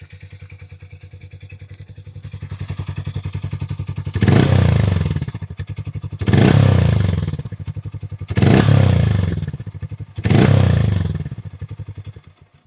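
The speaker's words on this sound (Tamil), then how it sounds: "இதோட எக்ஸாஸ்ட் நோட் கேட்டுருவோம்." A Hero Mavrick 440 motorcycle idles with a steady thumping exhaust beat, then is revved four times in a regular rhythm, each blip a loud, close, throaty roar before it drops back to idle.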